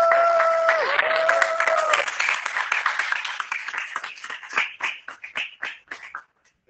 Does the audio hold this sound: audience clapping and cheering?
yes